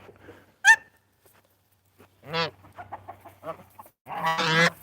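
A goose gives loud harsh honks and clucking calls, close by, in separate bursts with quiet gaps between them and a final long raucous call.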